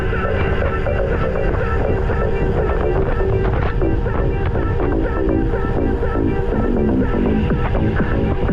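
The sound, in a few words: warm headwind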